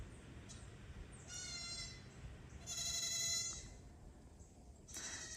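A little goat bleats insistently, screaming to be let out. There are two or three drawn-out, strained cries with short pauses between them over a quiet rural background.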